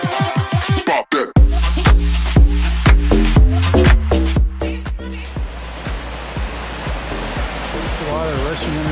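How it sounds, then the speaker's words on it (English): Water rushing beneath a bridge on a Smoky Mountains outing, a broad steady roar that takes over after a stretch of loud thumps and knocks near the microphone in the first half. "Water rushing underneath the bridge."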